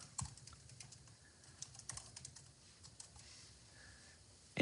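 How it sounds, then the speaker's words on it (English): Someone types a message on a computer keyboard in a quiet room, soft irregular key clicks in short bursts, close and faint, with a louder clunk at the very end. "start typing the message."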